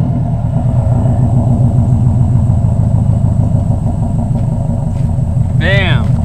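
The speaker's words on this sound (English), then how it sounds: "We're gonna start up this car and show you guys how it sounds." A Subaru engine fitted with a catalytic converter idles with a steady, throbbing low rumble close by. A brief rising chirp comes near the end.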